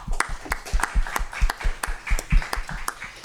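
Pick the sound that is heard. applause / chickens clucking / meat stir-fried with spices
applause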